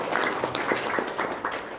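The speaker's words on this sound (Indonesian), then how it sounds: "tepuk tangan dong." A small audience clapping at an Indonesian talk event, a short patter of applause from a modest crowd, fairly close, with faint voices underneath.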